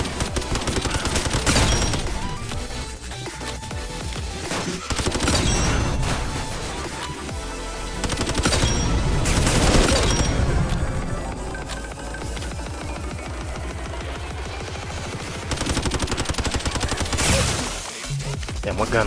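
Rapid bursts of video game gunfire from a Roblox Gun Game match, loud and dense, with repeated volleys and automatic fire continuing across the whole stretch.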